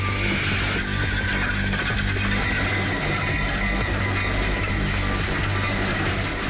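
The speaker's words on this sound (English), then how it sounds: "a conveyor takes the oyster through a washing and cleaning station" Oyster processing line with a conveyor carrying oysters through a washing and cleaning station: loud, constant mechanical rumble and whirring with a steady hum, unbroken throughout.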